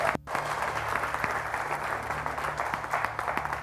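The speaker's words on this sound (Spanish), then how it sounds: "Dale un aplauso a Claudia" A church congregation gives a round of applause, continuous clapping at moderate distance over a low steady hum throughout.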